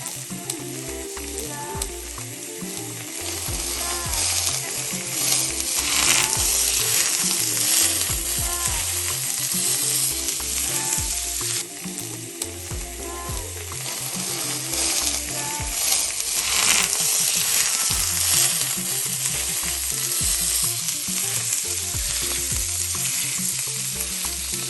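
Spicy salmon sizzles steadily as it pan fries, a loud continuous crackle and hiss with rapid spattering pops throughout and no talking.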